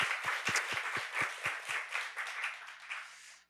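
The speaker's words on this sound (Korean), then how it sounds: "우리 시간 하나님께 영광의 박수 다시 한 번 더 올려드립시다." A church youth congregation applauding during a sermon, opening with several sharp rhythmic claps in unison that blur into scattered clapping and taper off quickly within a few seconds.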